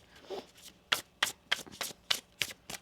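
Tarot cards are riffle-shuffled in a quiet room, giving six crisp, evenly spaced bursts of card flutter, soft and close, with no voices.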